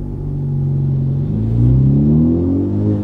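A Honda Civic Type R on an E85 tune drones loudly from inside the car while driving, its engine note steadily rising in pitch as it accelerates, with a deep rumble underneath.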